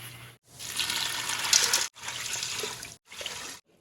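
Water gushes from a tap into a pot of beans in three bursts of filling, loud and close, separated by short pauses.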